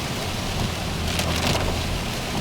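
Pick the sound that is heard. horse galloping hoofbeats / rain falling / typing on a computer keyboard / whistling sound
rain falling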